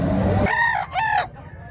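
A rooster crows once at a poultry expo in Tabunok, Talisay, Cebu, close and loud, a short broken cock-a-doodle call over steady background noise.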